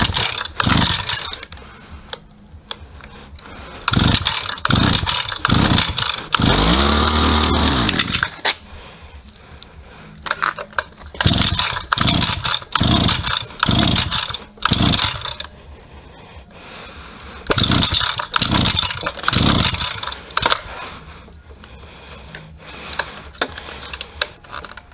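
A salvaged petrol brush cutter, refuelled and primed with the choke set, is pulled several times, catches, and revs in a loud close buzz for a few seconds, then more rapid starter pulls and short engine bursts come in repeated clusters.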